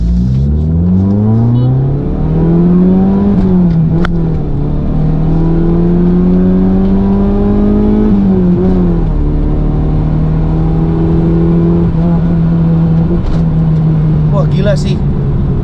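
A retro Mitsubishi car awaiting restoration revs hard in first gear, the engine note climbing and dipping in long pulls close to the microphone, with someone talking over it.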